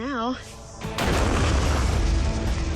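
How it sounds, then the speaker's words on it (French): A gas cylinder bursting apart in a loud, close explosion: a sharp boom followed by a sustained roaring, crackling blast that fills the rest of the moment, after a brief voice at the start. "La bonbonne a volé en éclats."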